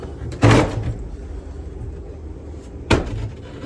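Two sharp knocks of a house door being opened or closed during a property walkthrough, the first around half a second in and the second near three seconds, each a loud close thump over quiet room tone.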